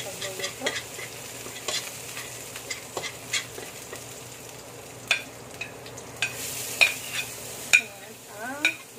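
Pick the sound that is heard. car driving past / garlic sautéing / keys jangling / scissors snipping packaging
garlic sautéing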